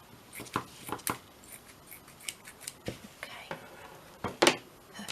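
Scissors snip paper for a handmade journal in a series of close, crisp cuts, irregularly spaced with short pauses between them.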